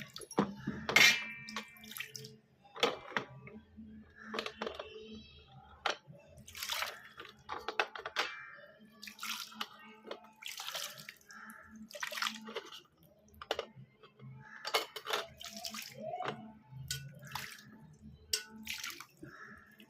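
Ganges water from the Kumbh Mela is poured over a household family deity idol in a bathing ritual: soft, irregular splashing and dripping trickles, close and fairly quiet, with no talk.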